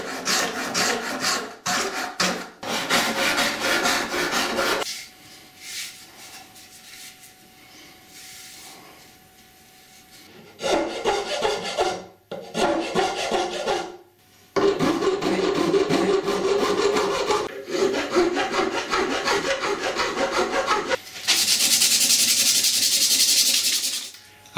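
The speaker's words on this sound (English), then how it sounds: "in order to try and sand the same taper here" A wooden guitar neck being sanded to shape its taper, heard as long rasping strokes in bursts with brief pauses, close and loud, without speech.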